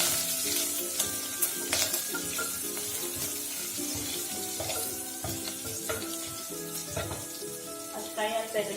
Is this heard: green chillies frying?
yes